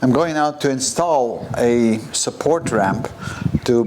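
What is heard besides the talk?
None of the usual background noises is heard.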